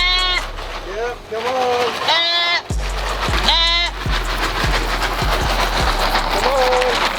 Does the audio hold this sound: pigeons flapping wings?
no